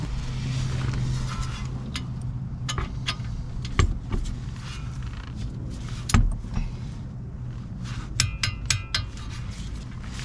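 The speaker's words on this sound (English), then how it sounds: "Now I'm going to torque them down." Brake caliper bolts on a VW Tiguan are torqued down during a brake job, with scattered metallic clicks and clacks of a wrench over a steady low workshop hum, including a couple of louder knocks.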